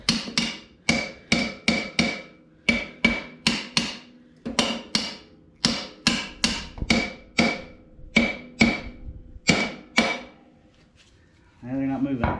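A hammer smacks welded rear shock perches in about two dozen loud, sharp metallic blows, delivered in quick clusters with short pauses between them. A brief different noise follows at the end.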